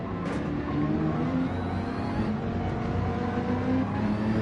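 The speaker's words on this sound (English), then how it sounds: "Going for a toe, heavy braking into the chicane" Race cars in Gran Turismo brake hard into a chicane, a continuous loud engine roar with shifting pitch and faint tire noise throughout, no pause.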